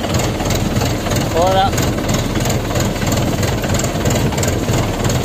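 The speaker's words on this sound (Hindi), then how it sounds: "तभी धीरे धीरे ट्रैक्टर चल रहा है" A tractor pulling a tiller through a field runs with a steady, loud low engine rumble throughout, and someone speaks briefly over it.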